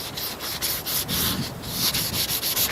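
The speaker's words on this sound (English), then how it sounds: "you just want to scuff up the edges so that the paint's got something to stick to" A Scotch-Brite pad scuffs the edges of a panel during paint prep: steady, close, hissing rubbing strokes in an even back-and-forth rhythm, with no talking.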